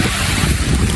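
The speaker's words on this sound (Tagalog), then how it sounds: "lakas ng hangin." Strong wind roars steadily into the microphone, a loud, buffeting rush of noise with no pauses.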